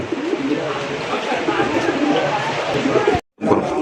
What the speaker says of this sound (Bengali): এখানে রয়েছে চমৎকার একজন রেসার কবুতরের কালেকশন